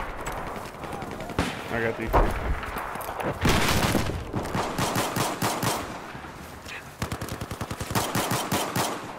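Gunfire in Battlefield 4 during a sniping match, including shots from a 1911 handgun, with rapid repeated cracks and a few heavier booms, loud and frequent throughout, under players talking.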